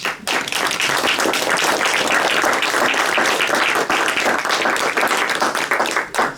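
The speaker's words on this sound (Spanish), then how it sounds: "¿Por qué le damos un aplauso al Señor?" A church congregation bursts into loud, dense applause that holds steady and fills the room for several seconds before tapering at the end.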